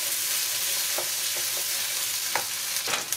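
Potatoes and carrots are stirred in a pot for a one-pot vegan stew, a dense steady hiss of frying under several light, scattered spoon scrapes, close up and without speech.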